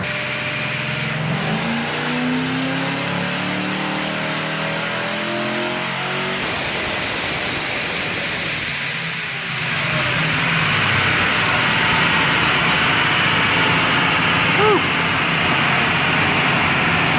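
A Ford Crown Victoria's Vortech-supercharged engine roars continuously under heavy load on a dyno, revving steadily higher with a whining, droning tone and a constant fan-like rush in the background.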